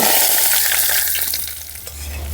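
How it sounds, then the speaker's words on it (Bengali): Hot oil poured over a ginger and garlic mushroom mixture for a Korean-style mushroom dish hisses in a loud, close, continuous sizzle that eases only slightly as it settles. "এবার গরম গরম এই তেলটা এর মধ্যে দিয়ে দেব"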